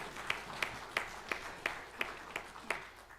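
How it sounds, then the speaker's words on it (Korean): A church congregation at a Sunday worship service claps together in unison, about eight faint, evenly spaced claps ringing slightly in the sanctuary. "우리 박수로 하나님께 영광 돌리겠습니다"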